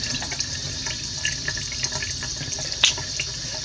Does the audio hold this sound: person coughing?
no